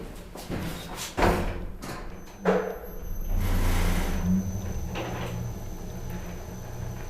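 An old Kone traction elevator's door thuds shut with a couple of dull knocks, then a low mechanical rumble as the car runs, all fairly quiet and muffled.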